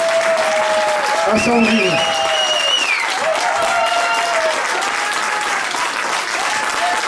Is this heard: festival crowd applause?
yes